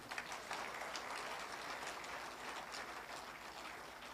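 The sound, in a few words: audience applause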